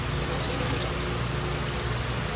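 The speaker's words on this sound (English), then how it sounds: "Let the water drip off a little bit." Water trickles and drips off washed raw chicken in a kitchen, a steady close splashing stream with no talking.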